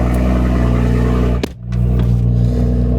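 A sports car engine gives a steady deep rumble at idle, loud and close, with a brief dip midway before the low drone resumes.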